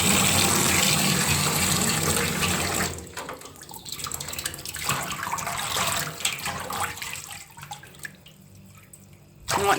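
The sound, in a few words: tap water running into a bath for a bearded dragon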